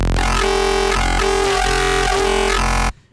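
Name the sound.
wavetable synth saw sound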